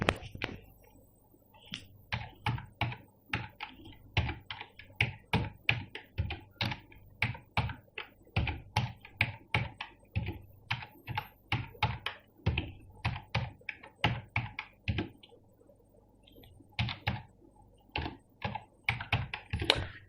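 Steady stream of computer keyboard typing, quick clustered keystrokes and spacebar thunks while prices are entered into a Microsoft Excel spreadsheet, close and fairly quiet, with brief pauses between bursts.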